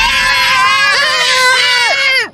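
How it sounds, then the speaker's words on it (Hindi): Three animated children scream together in fright, loud and shrill, several overlapping high-pitched voices sustained for about two seconds with wavering pitch before cutting off abruptly. "उस औरत को देखते ही उन तीनों की चीख निकल गई।"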